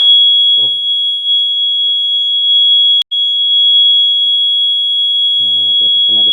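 A vibration sensor alarm, wired up with red, black and white leads, gives off a steady, loud high-pitched electronic tone for about six seconds, broken once by a very brief dropout, while a person talks briefly.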